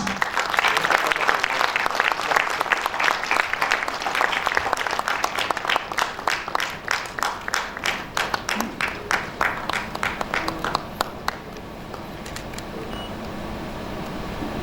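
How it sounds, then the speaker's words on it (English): An audience at a group award ceremony breaks into sustained applause, dense and loud at first before thinning into scattered individual claps and fading toward the end. "Huge round of applause."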